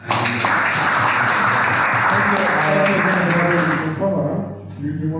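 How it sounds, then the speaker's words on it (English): An audience gives a round of applause to a guest at a talk on Europe's security, dense sustained clapping that fades out near the end, with a voice speaking underneath. "I would like to thank our guest with a round of applause."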